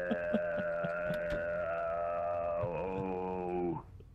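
A dog howls in the horror video game Fears to Fathom: Carson House, a long wavering tone with several stacked harmonics that bends and falls near the end, with a few sharp knocks early on.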